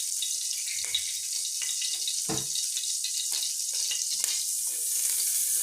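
Soft steady sizzling of butter and groundnut oil heating in a pot for popcorn, with a faint crackle throughout and a brief clink partway through, no voices.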